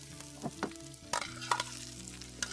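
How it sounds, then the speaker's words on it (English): Sliced radish gets tossed in a hot pan, a soft sizzle under a few scrapes and sharp utensil taps, fairly quiet and close, with nobody speaking. "Go ahead and add in my sliced radish. Just give this a quick toss. We want to wilt it."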